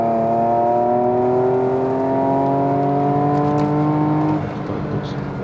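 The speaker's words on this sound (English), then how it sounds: "now we're logging and wide open throttle" A Porsche Macan with a Stage 1+ tune pulls hard at wide open throttle in third gear, its engine note climbing smoothly and continuously in pitch before easing off near the end, heard from inside the cabin.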